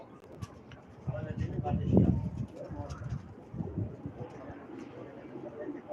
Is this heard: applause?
no